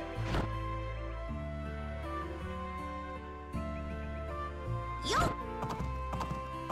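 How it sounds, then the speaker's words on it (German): Horse hooves clip-clopping during a ride in the Nintendo Switch farming game Doraemon Story of Seasons, faint and intermittent under bright looping game music. "Na komm, wir reiten zu Oma mit dem Pferd."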